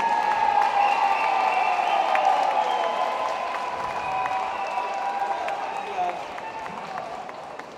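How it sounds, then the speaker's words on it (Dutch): A crowd at a party cadre meeting applauds for a former vice president of Suriname. Moderately loud, sustained clapping runs throughout, partly masked by a voice and tonal sound layered on top. "Een applaus voor Ashwin Adin."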